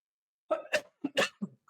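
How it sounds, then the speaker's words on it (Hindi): A man coughs five times in a quick, hoarse cluster after a moment of silence. The coughs are close and fairly quiet, with no talking. "खांसी हो रही है, थोड़ा दिक्कत, अभी तक मेरी खांसी ठीक नहीं है"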